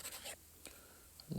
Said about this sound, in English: Let me erase this.